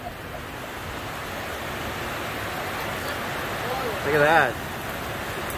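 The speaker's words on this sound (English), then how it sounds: "it's really started raining pretty hard. Wind has picked up." Heavy typhoon rain pours down with gusting wind as a constant dense hiss, steady and loud throughout, while a voice briefly speaks over it near the end.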